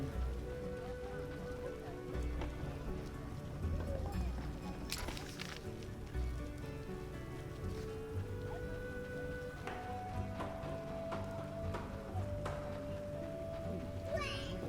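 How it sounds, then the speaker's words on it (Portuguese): Steady rainfall on surfaces in The Witcher: Enhanced Edition, a continuous dense patter with scattered drips, heard as game ambience under background music. "como tá só chovendo nesse jogo agora aqui nessa parte"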